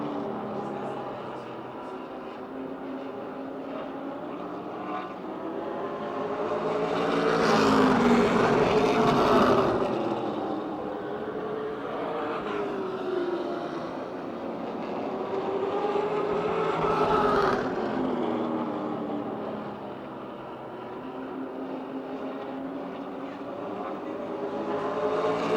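Race cars circling a short oval at Motordrome Speedway during a late-race stretch, a steady engine roar that swells twice as the pack passes close, then fades back to a sustained mid-distance drone.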